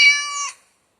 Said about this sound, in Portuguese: Oh, é um gatinho.